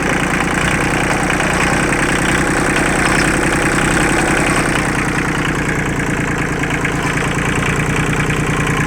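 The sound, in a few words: Kubota engine idling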